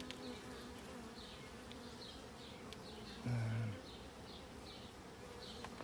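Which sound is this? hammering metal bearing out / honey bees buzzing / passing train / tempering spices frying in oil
honey bees buzzing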